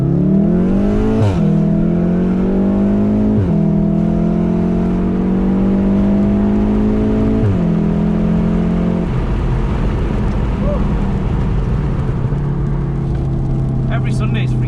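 A Volkswagen Golf R revs hard, its engine note climbing and dropping through several rising sweeps, then settles into a steady loud roar as its tyres spin and smoke.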